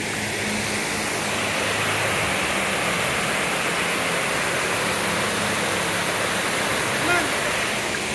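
A water fountain at a Disney park shoots up in a loud, constant rushing hiss that fills the whole stretch, with faint voices briefly surfacing near the end.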